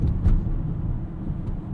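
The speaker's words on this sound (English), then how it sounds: "We're gonna merge this ID Buzz onto the highway and show you what it's like at a higher speed" A 2025 Volkswagen ID Buzz electric van merging onto a highway gives a low, steady rumble of road and wind noise from inside the cabin, with a couple of brief soft knocks and no speech.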